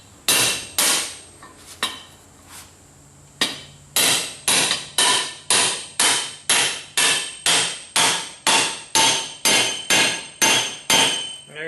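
A part is driven into a New Holland 630 baler with a hammer: an uneven few blows, then a steady run of sharp, loud metallic strikes, about one per second, ringing close by until it seats.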